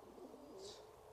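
Tall Maltese show pigeons give a single soft, brief coo from a loft, quiet and slightly distant.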